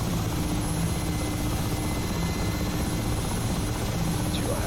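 A Mi-8 helicopter lifts off in the DCS flight simulator game, its rotor and turbine roar loud and constant throughout with no talk.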